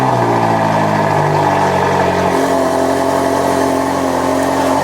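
A Ferrari 458 Spider fitted with a full F1-style FI Exhaust system roars loudly and steadily, the engine note holding high before shifting pitch midway, close and alone without voices.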